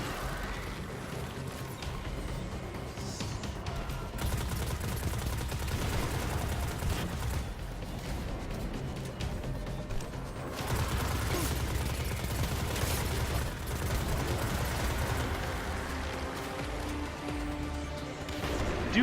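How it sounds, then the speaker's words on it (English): Rapid automatic gunfire from a 600 RPM auto rifle in Destiny 2, sustained bursts of shots with brief pauses, dense and continuous across the scene amid other game effects. "I do like these 600 RPM auto rifles"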